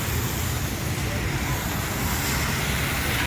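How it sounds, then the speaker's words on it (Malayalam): Inside a KSRTC bus heading toward Kovalam, a constant loud road rumble and rushing engine noise fill the air without pause, then drop away abruptly at the very end. "ഇപ്പോൾ നമ്മളിപ്പോൾ കോവളത്തേക്കാണ് വണ്ടി കയറിയിരിക്കുന്നത് കേട്ടോ"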